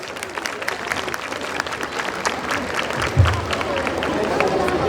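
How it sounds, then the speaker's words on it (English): Audience applause at a school annual day celebration, a crowd clapping steadily with some background chatter and hubbub mixed in, building slightly louder toward the end. "Can we have a big round of applause?"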